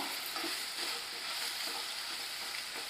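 Mutton bone curry masala with tomatoes being stirred in a pan, giving a constant close hiss and sizzle with faint, soft scrapes folded into it.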